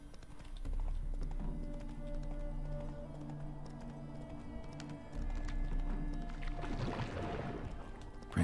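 Horse hooves clip-clop steadily from a ridden horse in the video game The Witcher 3: Wild Hunt, a continuous, moderately loud rhythm with no talking.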